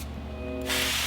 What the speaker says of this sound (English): So I'm gonna spray it over the sink.